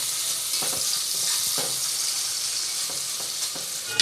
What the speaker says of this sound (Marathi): टमाटा थोडा फ्राय होऊ द्यायचा